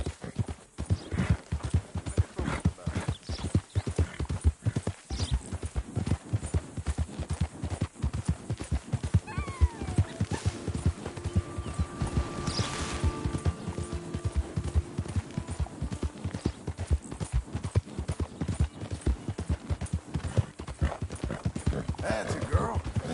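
Horse hooves clip-clop steadily and rhythmically on the ground in Red Dead Redemption 2, a continuous trotting beat close by, with faint hum and game ambience underneath.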